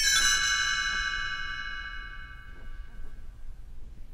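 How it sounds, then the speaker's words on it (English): A bright set of chimes rings once at the start, a shimmering metallic strike with many tones that slowly fades away over about four seconds and leaves quiet room noise. "You will know it is time to turn the page when you hear the chimes ring like this."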